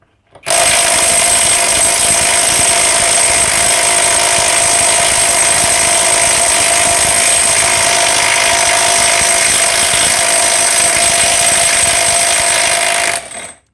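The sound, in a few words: Vrill VIW2350 impact wrench loosening a 500 Nm bolt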